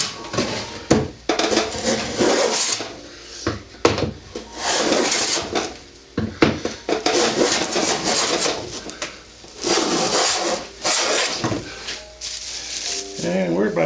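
A molding plane cuts whole wood shavings in repeated rasping strokes, each pass a loud scraping swish separated by short pauses, with a voice talking now and then.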